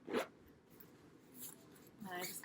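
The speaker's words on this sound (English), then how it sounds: "And you're just kind of tucking it in and working the zipper around." A zipper is worked around a Vera Bradley RFID 3-in-1 crossbody bag in quick, faint rasping pulls: one sharp zip at the start, a softer one midway and a longer run at the end.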